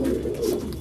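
Pigeons coo softly and steadily beside an automatic feeder, a low continuous burbling heard close up with no talking.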